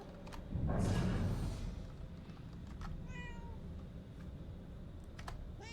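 A cat meows a few times in the video game Murdered: Soul Suspect, set in Salem, with clear short calls over a low ambient game background after a brief loud rush of sound near the start.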